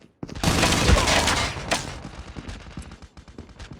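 Rapid automatic gunfire from a scoped weapon in Call of Duty: Mobile, a dense burst of shots fired up close that trails off into scattered softer reports.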